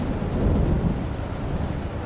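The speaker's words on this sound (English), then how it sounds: "You can hear the thunder in the distance." Low, continuous rumble of distant thunder in the submarine video game Silent Hunter 3, with a steady rain-like hiss over it, sustained without breaks.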